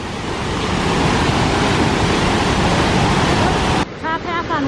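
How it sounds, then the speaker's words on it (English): A waterfall at Minneopa State Park roars loudly as broadband rushing water, steady and close, before it cuts off abruptly near the end, where a voice briefly talks. "I hear the rushing water, so we must be very close to the waterfall."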